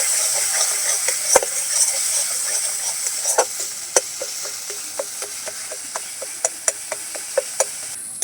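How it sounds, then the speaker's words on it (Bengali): Spices with coriander and pepper powder being sautéed in a pan for plantain kofta, a soft sizzle under repeated sharp ticks of a spoon scraping and tapping the pan in an uneven rhythm. "এবারে ভালো করে সব কষিয়ে নেবো"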